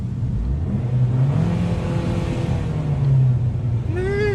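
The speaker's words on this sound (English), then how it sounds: "so I'll give it a rev" A 2019 Abarth 595 Esseesse with valve exhaust, not in sport mode, revs its engine steadily under a continuous low rumble, with a rising whine near the end.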